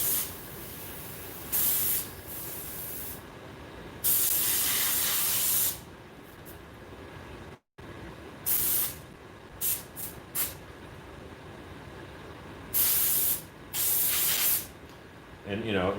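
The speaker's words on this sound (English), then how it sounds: "I know I'm going to come back in and edge it with the airbrush" An airbrush hisses in repeated bursts as paint is sprayed along the edges of a Pelloquin finish, each spray a loud steady hiss of a second or two separated by quieter gaps.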